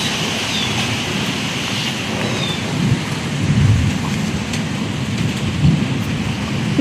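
Heavy rain pours over a village under a darkened sky, a dense steady hiss of drops on surfaces, with low rolling thunder rumbling through.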